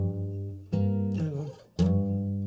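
Acoustic guitar plays slowly using ringing harmonics: three separate struck chords, each sustaining clearly and alone.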